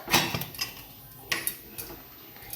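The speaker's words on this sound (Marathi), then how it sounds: "यामधून आवाज येत आहेत आपले ते ज्वारी अशी फुटत आहेत म्हणजे लाह्या बनत आहेत" Sorghum (jowar) grains popping inside a covered pressure cooker with the lid's gasket removed, making scattered sharp ticks and clicks, a few quick bursts spaced irregularly, moderately close and fairly quiet.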